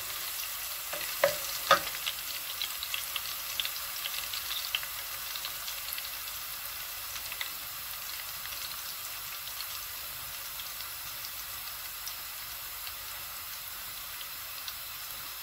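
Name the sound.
onions and ginger frying and being browned in a pot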